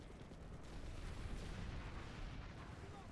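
Dense, continuous distant gunfire and rumbling battle noise pour from a hillside in an online war game, a steady roar of overlapping shots with no clear breaks.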